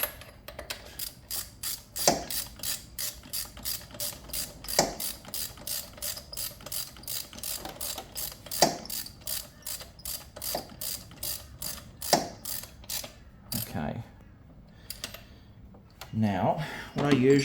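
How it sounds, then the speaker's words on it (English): A quarter-inch drive ratchet clicks in rapid, evenly spaced bursts while tightening the cylinder head bolts on a Kymco Vibe scooter, each stroke followed by a short pause and louder snap, up close; someone talks briefly near the end. "what I usually do with these is I use my quarter drive ratchet instead of the 3/8"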